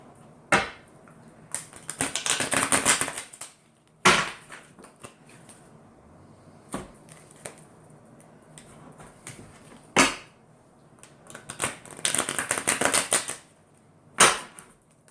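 Tarot cards riffle-shuffled in several quick bursts, each a dense crisp flutter lasting a second or so, with sharp taps and pauses of near silence between them.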